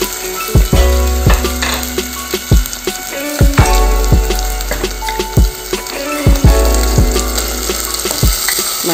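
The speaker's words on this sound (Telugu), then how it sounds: "ఇది కూడా వేగనిచ్చి ఫ్రై అయిపోయిందండి." Dosakaya (yellow cucumber) mutton curry frying in a pot: a steady, loud sizzle runs throughout, broken by frequent sharp metallic clinks and scrapes from stirring, with no talking.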